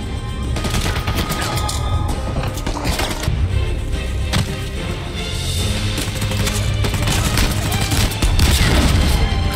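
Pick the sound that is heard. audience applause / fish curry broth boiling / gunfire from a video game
gunfire from a video game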